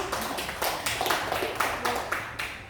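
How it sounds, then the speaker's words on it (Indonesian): An audience at a school teachers' socialization session claps, a brief patter of hand claps with sharp, irregular beats, moderately quiet and heard alone. "Oke, kita berikan aplaus Bapak Ibu"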